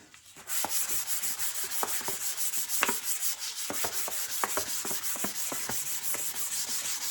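Repeated hand strokes of 400 grit sandpaper over a guitar head veneer, with a steady close rubbing hiss and short sharp scrape accents, continuous and unaccompanied by talk.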